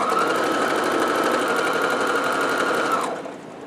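A sewing machine runs steadily along a 5/8 inch seam with a back tack on the top pocket of a locker caddy, loud and continuous for about three seconds before stopping abruptly.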